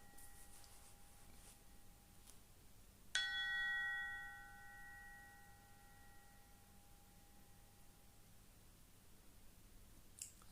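A single meditation bell struck once during a quiet guided practice, a bright clear strike followed by a long shimmering ring that slowly fades over several seconds in near silence.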